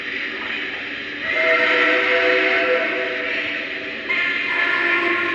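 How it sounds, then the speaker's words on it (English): A Lionel Vision Line model locomotive sounds a Nickel Plate 765 Berkshire steam whistle: a steady, bright, long sustained blast, briefly dipping and then sounding again, with a faint mechanical hum underneath. "Nickel plate 765 Berkshire whistle."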